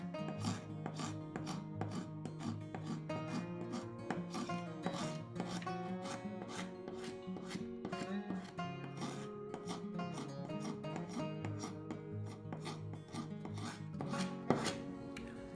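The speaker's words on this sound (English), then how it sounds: "You are taking the paint off with the Carbide scraper." A carbide scraper pulled firmly across painted wood on an antique wooden rocking chair, rapid repeated rasping scrapes in a steady rhythm, close and loud, with no talk.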